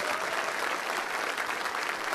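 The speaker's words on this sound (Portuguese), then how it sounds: "Mais forte as palmas para Jesus." A church congregation claps for Jesus during a Catholic worship service, with dense, steady applause filling the whole stretch and no voices standing out.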